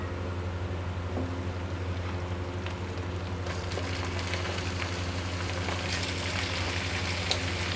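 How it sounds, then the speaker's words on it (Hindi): Chicken going into browned onions in a karahi, producing a steady frying sizzle that brightens partway through, over a constant low hum from nearby equipment. "प्याज हमारे ब्राउन हो चुके हैं, तो मैं इसमें डाल दूँगी चिकन"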